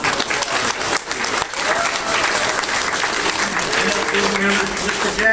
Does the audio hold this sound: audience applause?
yes